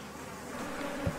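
Africanized honey bees swarm after their hive is tapped, a dense buzzing drone that holds steady and close for about a second.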